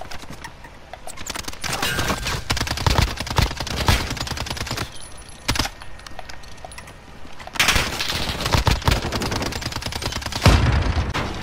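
Rapid bursts of gunfire from a weapon in Call of Duty: Modern Warfare Search and Destroy, dense crackling volleys running almost throughout with brief lulls, loud and close, without speech.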